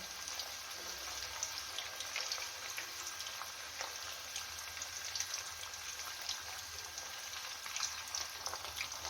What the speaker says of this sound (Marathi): तेलामध्ये टाकल्यानंतर सुरुवातीला गॅस मोठा करायचा एक दोन मिनिट फ्राय करून घ्यायचं